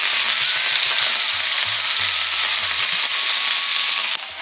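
Cumin seeds and a chili crackle and sizzle in hot oil in a village kitchen, a loud, dense frying hiss with small popping bursts and the light scrape of stirring. It runs nearly unbroken and no one speaks.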